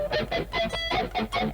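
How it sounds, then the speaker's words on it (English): Palm-muted electric guitar notes with the higher strings muted ring out as short, choppy plucks in a quick repeating rhythm, dull and clipped, heard alone over about a second and a half. "if I was actually palm muting those higher strings, it would sound like this"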